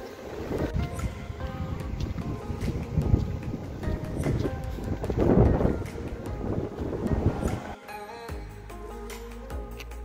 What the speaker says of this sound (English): the wind is picking up, so I should probably get back to the farmhouse